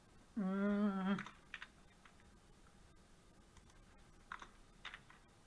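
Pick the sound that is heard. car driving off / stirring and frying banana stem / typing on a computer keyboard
typing on a computer keyboard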